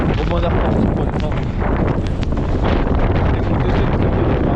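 Strong wind on a snowy mountain in the Vosges during a snowshoe climb to about 1300 m, a loud, steady roar buffeting the microphone for several seconds, with some speech mixed in.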